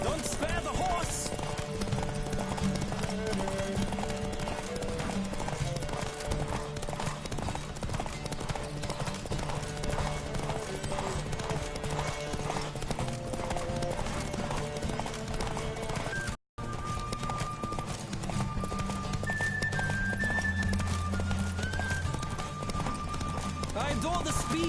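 A horse gallops through The Witcher 3 with a fast, even clip-clop of hooves close by, a few whinnies breaking in, game music underneath and a voice talking at points; a brief dropout near the end.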